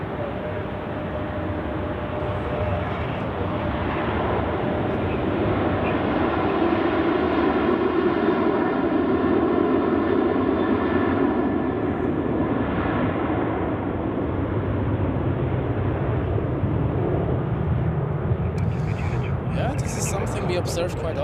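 An aircraft takes off at Zurich Airport on a winter day, its engines making a loud, sustained roar that stays steady for about twenty seconds, heard from a distance across the field.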